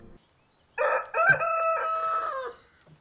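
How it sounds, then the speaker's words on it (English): A rooster crows once in a long, harmonic cock-a-doodle-doo in a Civil War–era film setting, loud and clear with a short rising start and a sustained wavering end, alone without talk. "There's a rooster."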